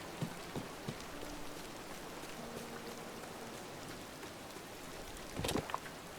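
Rain falls in the video game Disney Dreamlight Valley, a soft steady hiss of drops on surfaces, faint and continuous, with a few light tapping sounds from gameplay.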